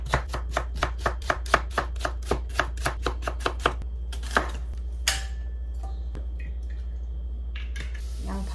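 Raw potatoes being chopped on a cutting board, around twenty sharp, evenly spaced knife strikes in a quick steady rhythm, close and distinct, then a few scattered thumps and kitchen clatter.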